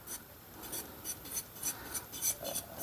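Grated cheese and starchy pasta water are whisked into a paste for cacio e pepe, giving quiet, rapid rhythmic scraping strokes of a whisk against a bowl.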